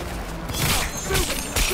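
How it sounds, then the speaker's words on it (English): Gunfire in a Cyberpunk 2077 shootout: a few sharp bursts of shots over a dense, noisy game soundscape, fairly close and loud. "They're opening fire!"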